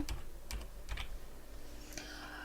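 A few quick taps on a computer keyboard while entering a word into a search filter, brief clustered keystrokes up close over a quiet room hum.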